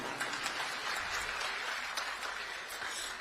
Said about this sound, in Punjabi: ਇੱਕ ਵਾਰੀ ਆਪਣੇ ਆਪ ਲਈ ਜ਼ੋਰਦਾਰ ਤਾੜੀਆਂ ਮਾਰ ਲਓ